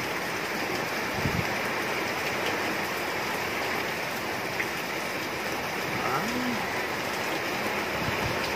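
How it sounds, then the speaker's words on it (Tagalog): Heavy typhoon rain pours down in a dense, continuous roar of loud hissing, with no pauses and nothing else standing out above the downpour. "Lakas ng ulan"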